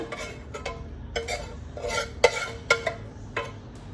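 Just Egg being stirred into vegetable fried rice in a pan, a spoon scraping and clacking in irregular strokes with soft rustling of rice between them, close and moderately quiet.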